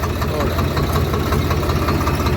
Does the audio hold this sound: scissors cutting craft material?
no